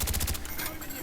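Gunfire in a Call of Duty Black Ops team deathmatch, a quick rattling burst of rapid shots lasting under half a second, loud and close, followed by fading game noise.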